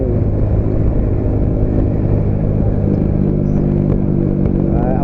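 Motorcycle carrying a passenger along Governor's Drive in Cavite at night, heading toward a vineyard at a slow, easy pace; a steady, loud engine rumble with road and wind noise runs continuously without a break.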